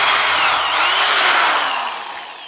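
Power drill boring a hole into a piece of wood during a doweling job, a steady high-pitched whirring that holds loud and close, then tapers off toward the end with no talking.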